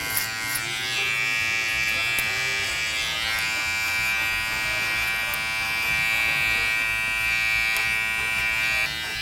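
Electric hair clippers buzz steadily as they trim a man's hair around the neckline and edges, a close, continuous hum with slight variations as the blades move through the hair.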